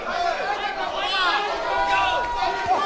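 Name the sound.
boxing crowd chanting USA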